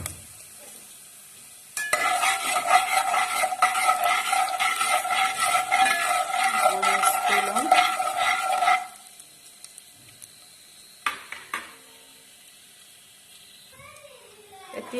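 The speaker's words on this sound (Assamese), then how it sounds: "মই 5 ফোৰণ অকমান দি দিম, তেজপাত দুখিলা দি দিম" Panch phoron and two bay leaves hit hot oil and sizzle loudly in a steady hiss for several seconds, then fade to quiet with a few faint clinks after.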